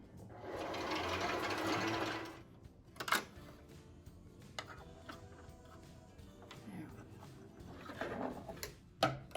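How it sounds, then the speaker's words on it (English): A sewing machine whirs steadily for about two seconds while winding a bobbin, then stops, leaving faint clicks and handling noises. "go ahead and thread this to wind the bobbin on here."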